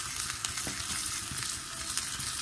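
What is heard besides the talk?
chopped shallots sautéing and being stirred in a pan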